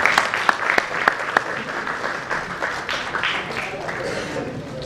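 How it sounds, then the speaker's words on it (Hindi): Loud applause from an audience welcoming a guest onto a stage at an event, with dense, steady clapping lasting throughout and some sharper individual claps near the start. "जोरदार तालियों के साथ स्वागत"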